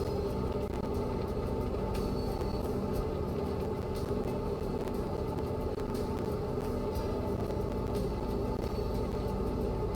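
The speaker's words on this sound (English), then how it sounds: "It's just a train on the siding." Low steady rumble of a train waiting on a siding in Train Mechanic Simulator 2017, a continuous mechanical drone with faint clanks and ticks, no voices.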